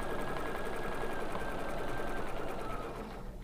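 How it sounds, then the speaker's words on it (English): Domestic sewing machine running steadily while sewing a very small zigzag stitch over existing quilt stitching, a close, fast continuous whirring hum that holds evenly for about three seconds before easing at the end. "I'm going to switch to a very small zigzag stitch and go around that stitching again"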